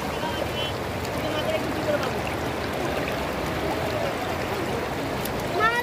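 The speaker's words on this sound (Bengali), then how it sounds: "পানির কলকল শব্দ অসাধারণ।" Stream water at Bisnakandi gurgling and rushing steadily in a continuous, moderately loud wash, with voices faint in the background.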